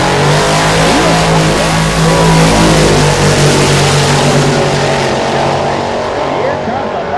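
A red 1995 Ford Mustang with a 509 cubic inch big block roars down a drag strip, loud sustained engine howl with rising harmonics, joined by a second car, while an announcer talks over the roar.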